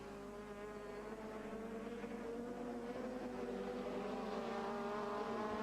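Touring race cars at the ETCC round in Braga, their engines howling in a sustained, rising drone that holds steady throughout with no pause.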